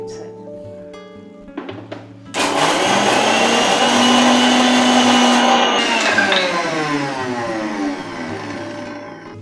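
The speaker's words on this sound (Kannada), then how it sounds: "ಇದು ಸ್ವಲ್ಪ ಮಿಕ್ಸಿಗೆ ರೌಂಡ್" A kitchen mixer grinder starts up loudly and whirs steadily, grinding spices to a slightly coarse paste for traditional kadubu, after a short stretch of quieter background sounds.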